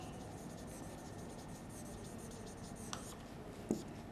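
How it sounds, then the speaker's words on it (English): Quiet, continuous scratching of a pen or marker writing a word on a surface during a social science lesson, steady and faint with no talking. "let me write down topography"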